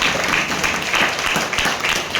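Audience at a Pongal college debate applauding, a steady dense wash of many hands clapping that holds at even loudness throughout, close and sustained with no speech over it.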